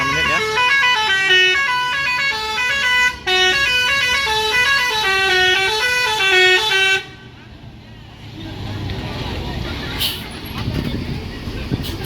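A bus's telolet horn plays a long, loud, looping melodic toot sequence at a bus terminal for about seven seconds, briefly interrupted once, then gives way to terminal bustle and engine noise.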